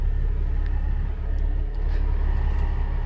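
A Ford F750 grain truck with a 5-speed and 2-speed rear axle idles with a loud, close, steady engine rumble right after starting, no voices.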